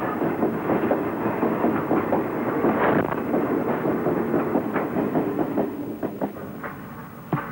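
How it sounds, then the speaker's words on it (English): An empty freight train rumbles past nearby, a heavy continuous roar with rhythmic clicking of wheels over the track, easing slightly toward the end. "There's an empty train coming through there in a few minutes"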